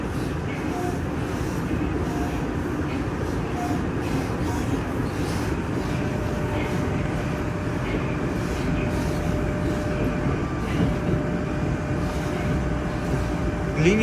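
Moscow metro train running along the Nekrasovskaya line, a steady dense rumble and rolling roar of the carriage throughout, with faint tonal whine and no talk.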